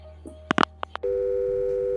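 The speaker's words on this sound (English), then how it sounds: "Then the phone hangs" A few brief clicks and knocks of a phone call ending give way to a steady, continuous telephone tone that holds unchanged to the end.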